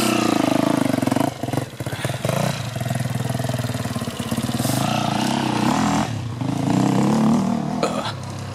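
A two-stroke motorcycle engine buzzes close by, surging and dropping as the throttle is blipped, with sharp rises and brief lulls between bursts of revving.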